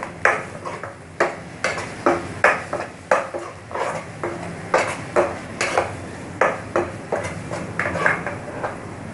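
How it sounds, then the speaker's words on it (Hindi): Metal spoon clinks and scrapes against a pan while masala with turmeric and red chili powder cooks for stuffed baingan, a steady series of sharp taps repeating every half second or so, close and fairly loud with no talking. "हम इस मसाले में अब थोड़ी सी हल्दी, थोड़ी सी लाल मिर्च पाउडर डाल के पकाएंगे।"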